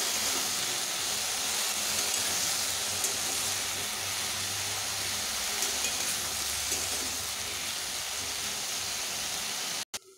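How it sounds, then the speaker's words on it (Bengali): Salted taro pieces fry in a pan with a steady, dense sizzle that holds at an even loudness throughout, cutting off abruptly at the very end. "এবার নুন মিশিয়ে আমি কচুগুলোকে বেশ ভালোভাবে ভেজে নেব।"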